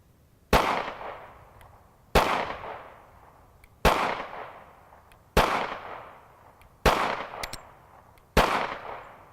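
Six loud, sharp shots from a Smith & Wesson M&P Shield 45 pistol fired one-handed, spaced about one and a half seconds apart, each with a quick crack and a short decaying echo outdoors.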